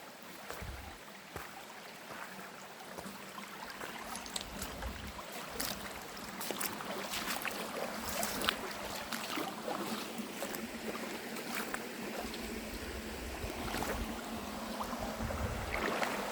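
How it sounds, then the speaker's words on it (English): Steady broadband rush of flowing water from a brook in the Maine woods on a hot day, with irregular splashes and sloshing as someone wades upstream through it, close and continuous, no talking. "Gotta get in the brook here and walk up the brook."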